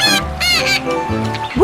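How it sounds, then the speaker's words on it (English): A cartoon-style quacking voice calls out three times in a row, loud and close, with a brighter squeaky call at the end. "Quack, quack, quack!"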